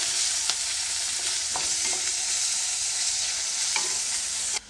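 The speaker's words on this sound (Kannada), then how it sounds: "ಈರುಳ್ಳಿನ ಹಾಕ್ಕೊಂಡ್ಮೇಲೆ ಒಂದು ಸ್ವಲ್ಪ ಫ್ರೈ ಮಾಡ್ಕೋಬೇಕು" Onions fry in a pan with a continuous close sizzle and occasional light scrapes and taps of stirring, then the sound cuts off abruptly.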